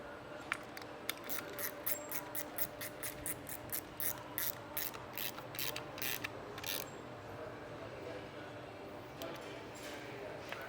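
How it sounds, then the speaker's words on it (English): Rapid metallic ratcheting clicks come in bursts as screws with lock washers and flat washers are tightened while assembling a Gemmecotti HTM mag drive centrifugal pump, fairly close, over a low steady background hum. "You only need to make them tight enough to hold the lock washer so the screw don't back out."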